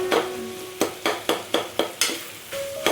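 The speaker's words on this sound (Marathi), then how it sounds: "तेही छान आपल्याला फ्राय करून घ्यायचं आहे." Chicken chilled in the fridge being softened in hot oil in a pan and stirred, heard close as a steady sizzle broken by a string of sharp scraping strokes from the spoon at a brisk, even rhythm.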